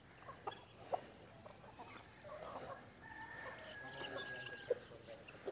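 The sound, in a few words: rooster clucking at mini zoo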